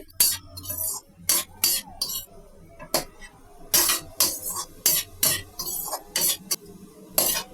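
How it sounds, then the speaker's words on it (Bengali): Semolina frying in ghee and stirred with a spoon: brisk, regular scraping strokes against the pan, roughly two a second, close and fairly loud over low background noise, with no speech. "এবার ঘি দিয়ে সুজিটা ভালো করে ভেজে নেব হালকা লাল করে"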